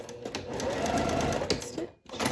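A sewing machine stitches seersucker fabric for a dress, a close steady mechanical whir of needle strokes that briefly stops near the end before starting again.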